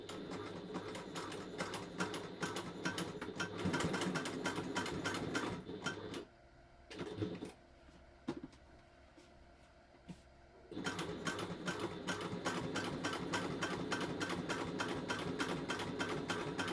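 A sewing machine top stitches a zipper pouch with a fast, steady mechanical whirr that runs for several seconds, stops for a few seconds of near quiet with small clicks, then starts up again.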